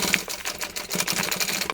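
A sewing machine sews a seam on a mini tote bag with its lining pushed aside. The rapid, even, mechanical stitching chatter is fairly loud and continuous, with no voices over it.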